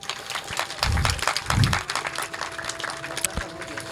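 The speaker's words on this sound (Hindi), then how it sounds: "प्रसाद किसको चाहिए? ताली बजाइए।" An audience at a religious discourse claps in scattered, uneven bursts, moderately loud, with crowd murmur and some low thumps mixed in.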